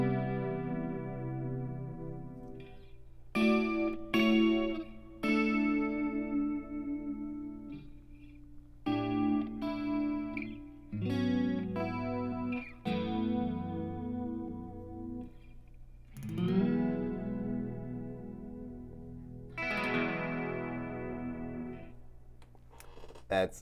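An electric guitar plays chords and short phrases through a pair of pitch shifters set to plus and minus nine, a shimmering, doubled effect giving a thick, chorused tone with some ringing sustain.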